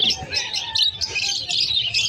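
An opaline parrot chirps continuously at close range, its bright, rapid tweets loud and overlapping with little pause.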